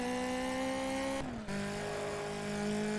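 A race car engine in the PC racing game GT Legends holds a steady, high-pitched drone, briefly dipping and dropping pitch as if shifting gear, then settling back into a sustained note.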